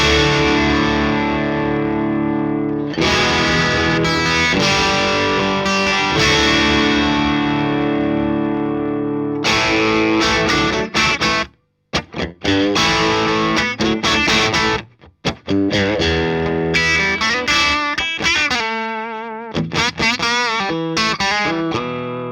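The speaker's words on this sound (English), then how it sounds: "So I'm going to hit the bright switch, and here's how it sounds now." Electric guitar through a Vox AC50CP amp with the bright switch engaged plays loud strummed chords and sustained notes, with brief gaps and a run of quicker picked phrases toward the end.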